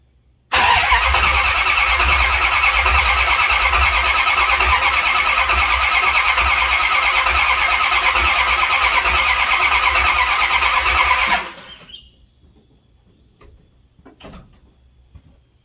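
A Mopar 440 V8 cranks on its starter with the ignition disconnected, a loud, even, continuous whirring churn that runs for about eleven seconds without firing, then cuts off abruptly into near silence with a few faint clicks.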